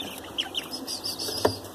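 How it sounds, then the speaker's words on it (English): Olandsk Dwarf chickens, a hen and a rooster, make a few soft clucks and short chirps close by, with faint fluttering against a quiet background. "I'm looking at this hen and this rooster right here."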